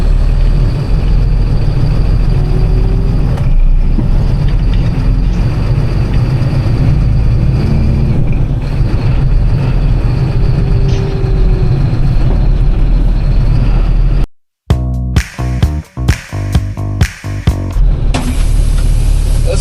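A septic pump truck engine idles while its air pressure builds, giving a loud, steady low rumble close by for most of the time, then a sudden drop followed by a series of short, sharp bursts and hisses.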